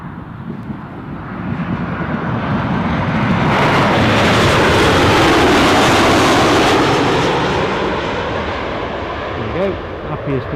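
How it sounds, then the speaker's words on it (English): A fixed-wing airplane at Newcastle Airport roars past, its jet engine swelling to a loud, broad peak mid-way and fading out, while a passing train rumbles underneath. "Right, I can hear the plane."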